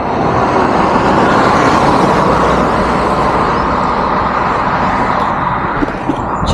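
Dense road traffic on a highway ride between Vijayawada and Kolar, cars, buses and trucks rushing past close by in a loud, continuous roar with no voices.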